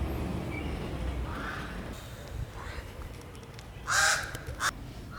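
Several crows caw in the distance in a suburb outside Banjul, The Gambia, a couple of harsher, louder calls near the end, over a low rumble of traffic and street noise.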